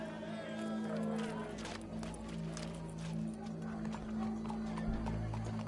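Horse hooves clip-clop steadily with a whinny in Red Dead Redemption 2, mixed with game-style background music and voices talking over it.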